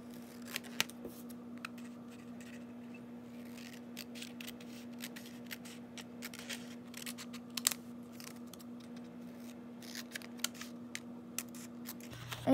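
Scissors snip through paper to cut out homemade bookmarks, scattered close crisp cuts and rustles over a quiet steady hum, with no talking.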